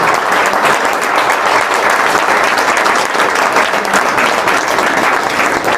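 An audience applauds police recruitment aspirants at a guidance session, a loud, dense and continuous wash of many hands clapping together, steady for the whole stretch with no voices on top.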